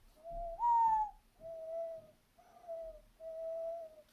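A person whistles an imitation of a mourning dove's call: one rising, swelling note followed by three steady, level hoots, close and clear with short pauses between.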